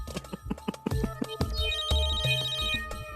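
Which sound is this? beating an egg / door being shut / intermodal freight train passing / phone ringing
phone ringing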